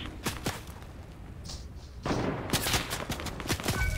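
Video game gunfire in Fortnite: repeated sharp shots and thumps in irregular bursts, quieter at first, then a louder, denser volley in the second half.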